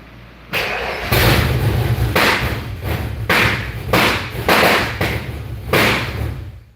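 A 408 stroker engine in a Foxbody Mustang cranking and popping as it tries to start, a rough mechanical drone broken by a series of loud, evenly spaced thuds and pops, close and heavy, with no voices.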